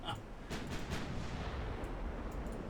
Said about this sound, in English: that was my 9-inchers opening up from the heavy cruisers